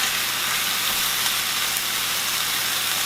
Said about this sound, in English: Now we're just going to cook our venison